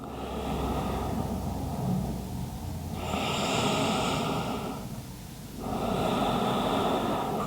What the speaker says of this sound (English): let's take a couple of deep breaths. Slow inhales. Slow exhales.